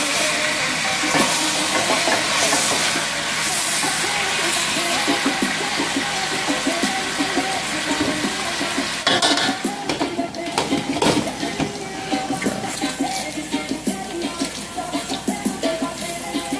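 Chicken browning in a pot for a Jamaican curry stew, a steady broadband sizzle and frying hiss running throughout, with clatters of stirring and scraping growing busier toward the end.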